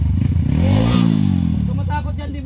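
A motorcycle engine revs up and falls back with a rising, falling pitch and a rattling chain while crossing rough ground at a park, loud and close.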